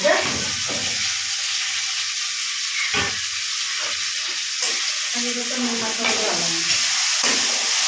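Curry leaves dropped into hot oil in a pan of curry set off a steady, loud sizzle and frying crackle, with bursts of stirring and a few scraping clatters through the middle.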